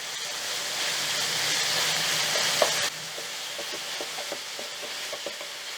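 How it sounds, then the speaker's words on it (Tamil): Chicken fries in a pan with a loud, steady sizzle that drops abruptly to a softer hiss, while occasional stirring clinks sound over it. "சிக்கன் கொஞ்சம் வேகிற வரைக்கும் நம்ம ஃப்ரை பண்ணிக்கலாம்."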